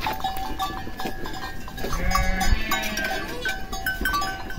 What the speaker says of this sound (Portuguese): isso é uma raça de cabra boa que eu tenho aqui